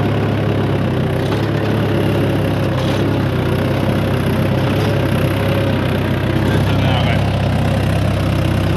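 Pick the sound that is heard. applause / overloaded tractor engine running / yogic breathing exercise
overloaded tractor engine running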